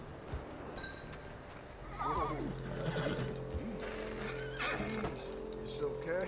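A horse whinnies and snorts near at hand in the game Red Dead Redemption 2, with hoof clops and low ambient rumble, a voice speaking faintly underneath.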